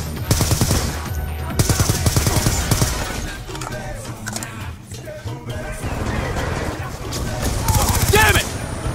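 Call of Duty Black Ops II gunfire: rapid automatic bursts rattle loudly amid battle noise, with shouted voices and radio-style chatter mixed in, and heavy firing returns near the end.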